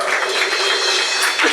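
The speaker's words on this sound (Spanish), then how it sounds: "Dale ese aplauso al Señor." A church congregation breaks into a short, dense burst of applause that stays loud and even throughout the brief moment.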